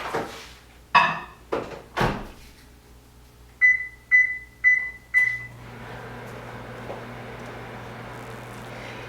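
Microwave oven heating a Crisco candle container: door and button clatter, four short electronic beeps, then the oven hum starts and runs steadily.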